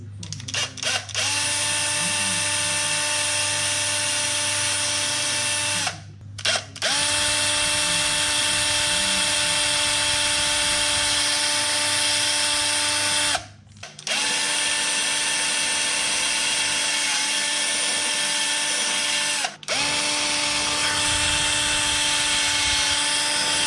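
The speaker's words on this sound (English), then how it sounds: "I'm just going to drill like a pilot hole and then use one of these to slowly work my way through." A power drill whines continuously at high pitch, close and loud, drilling a pilot hole in a car centre console, stopping briefly three times before starting again.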